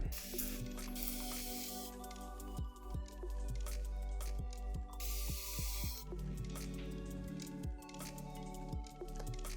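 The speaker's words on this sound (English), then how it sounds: "got your traditional spray bottle, you just want to do like 2 or 3 sprays" Several short hissing bursts of a spray bottle misting water onto hair, separated by pauses, with soft handling sounds and a low background hum throughout.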